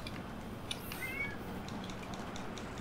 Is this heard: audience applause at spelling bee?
no